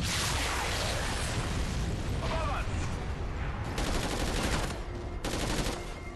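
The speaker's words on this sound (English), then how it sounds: "Why are you shooting at us?" Dense automatic gunfire in Call of Duty: Ghosts, a loud continuous rattle of shots with bursts and booms, close up, heavy throughout with voices mixed underneath.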